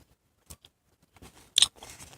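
Crisp bites and crunchy chewing on a macaron, a couple of short crunches followed by a louder bite and a stretch of close, quiet chewing.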